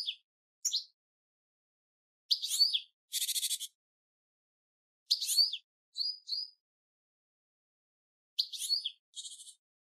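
A blue tit calls in short, high, clean bursts, alternating sharp chirps with quick buzzy trills in repeated phrases separated by silence.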